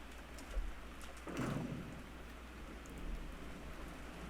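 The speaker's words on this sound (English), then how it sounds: "It sure is raining hard." Steady heavy rain pours down as a continuous broadband wash, with a brief low rumble swelling near the middle, no voices present.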